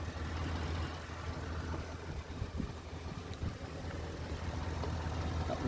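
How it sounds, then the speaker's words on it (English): A 2008 Audi S5 4.2 V8 Quattro idles quietly, giving a low, steady, smooth rumble with no revving, alone and close by. "Obviously the engine's running, by the way. It's very quiet, but it is running."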